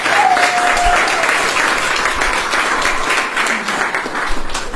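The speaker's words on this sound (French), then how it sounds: "on peut encore applaudir?" Steady, dense applause from a large audience fills the whole stretch, loud and even, with no one speaking over it.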